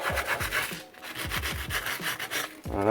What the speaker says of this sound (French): un bon coup de papier à poncer.